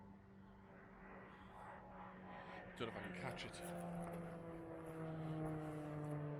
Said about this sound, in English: Oh, can you see that jet?